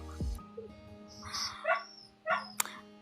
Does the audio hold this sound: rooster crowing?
no